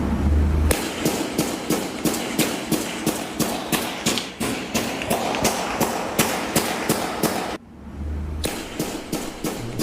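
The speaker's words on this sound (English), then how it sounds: "do you want to play the gunshots once again?" A long volley of sharp, loud gunshots fires in rapid succession in a city street near apartments, broken by one brief pause before the rapid shots resume.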